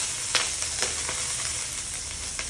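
Garlic and onion frying in a small amount of oil while cooking giant crabs, a steady close sizzle with scattered sharp crackles and pops, loud and continuous with no talking.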